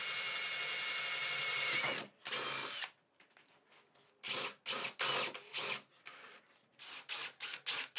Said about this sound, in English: I cleared up the area and drilled holes for the wiring to cross from one socket to the other.